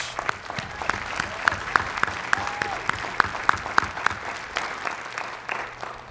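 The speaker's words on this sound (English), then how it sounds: "So for the graduates, let's all give them a round of applause." Audience applause for graduates at a university commencement ceremony, a steady wash of clapping from a large crowd with some sharper individual claps standing out, lasting throughout.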